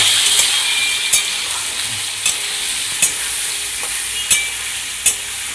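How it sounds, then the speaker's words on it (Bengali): Potatoes with turmeric are fried in a pan, giving a bright, steady sizzle close by, with a spatula striking and scraping the pan in sharp knocks about once a second. "আলুটা আমি ভালো করে ভেজে নেব"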